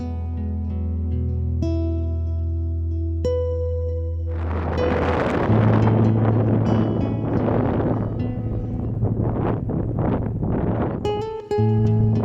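Strong wind on a long, high suspension bridge in Nepal buffets the microphone in loud, uneven gusts that rise and fall for several seconds, over a steady tonal music bed.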